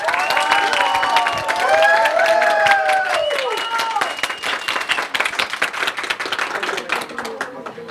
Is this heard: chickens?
no